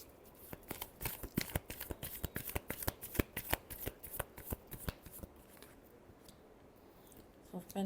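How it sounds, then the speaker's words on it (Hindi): Tarot cards are shuffled by hand in a rapid series of crisp riffling snaps that slow and fade toward the end, close and fairly quiet. "चलिए देखते हैं लास्ट शफल।"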